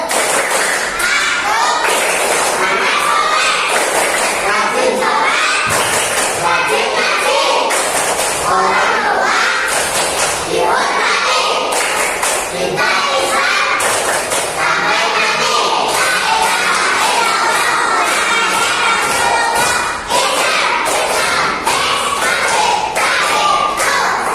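Children in a classroom loudly performing the 'tepuk anak soleh' clapping chant together, dense rhythmic clapping mixed with chanting voices, close and continuous throughout.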